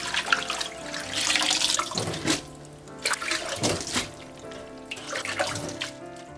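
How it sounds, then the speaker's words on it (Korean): Cold tap water runs and splashes over blanched Korean windshield herbs (bangpung namul) being rinsed in a sink, in several close bursts with pauses and dripping between. "30초 정도 있다가 찬물에 바로 헹궈준다. 세 번 정도 씻어주고"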